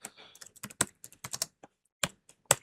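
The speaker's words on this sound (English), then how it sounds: "So let's type 5 hashtags." Quick bursts of keystrokes clatter on a computer keyboard as hashtags are typed, a close, dry series of clicks with brief pauses between.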